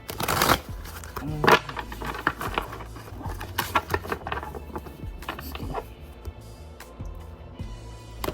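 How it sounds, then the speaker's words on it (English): Playing cards being shuffled up close, sharp riffling bursts followed by softer flicks and taps. "Alright, one more shuffle."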